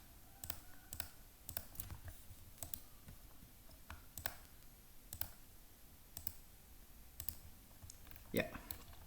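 Faint, crisp mouse clicks sound at irregular intervals while drafting in LibreCAD, single sharp ticks over a quiet room background.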